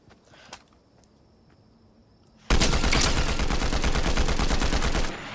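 A combat assault rifle in Fortnite opens up after a quiet stretch of faint footsteps, a loud rapid burst of automatic gunfire running steadily for nearly three seconds before cutting off.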